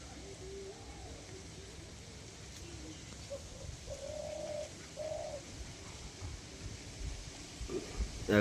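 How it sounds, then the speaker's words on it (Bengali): Domestic pigeons kept in a loft coo softly in a few short, throaty phrases, close by and rather faint over a low background hum. "এগারোখানা মোট পায়রা"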